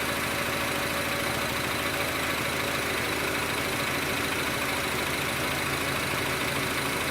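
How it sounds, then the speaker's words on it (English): A 2006–2011 Honda Civic engine idles steadily after a couple of minutes of running, a constant even hum with broadband noise and no talk over it. "The car has been idling just for a couple minutes."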